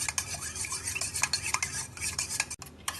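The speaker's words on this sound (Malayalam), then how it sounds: "നല്ലോണം അടിച്ച് പതപ്പിച്ചെടുക്കാം." Eggs whisked with salt, pepper and milk in a bowl: a brisk, continuous clatter of utensil against bowl, fast and rhythmic, close up, with a momentary break near the end.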